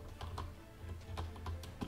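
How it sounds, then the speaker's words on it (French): Rapid, uneven keystrokes on a computer keyboard, hammered hard during a live Dofus tournament broadcast, close and fairly quiet over a low background hum, with no talk. "je martèle mon clavier"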